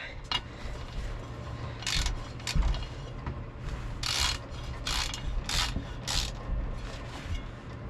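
A plug is screwed back in and tightened on a small engine, giving a series of quiet ratcheting clicks in short bursts with pauses between them.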